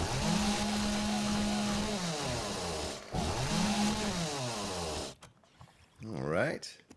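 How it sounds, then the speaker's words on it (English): A chainsaw in the video game 7 Days to Die buzzes in strained, rising and falling revving bursts as it strikes the floor, cutting out briefly before a final warbling rev. "I was hitting the floor with the chainsaw and I was running from those dogs."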